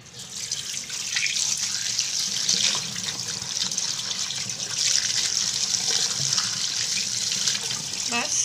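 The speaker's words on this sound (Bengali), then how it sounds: "পানি দিয়ে আলুগুলো ধুয়ে নেব" Running tap water pours steadily over sliced potatoes in a strainer at a kitchen sink, a continuous close splashing hiss with small shifts as the slices are moved.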